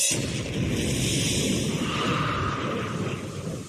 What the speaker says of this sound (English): By pumping a liquid fuel into a reaction chamber where a catalyst ignites it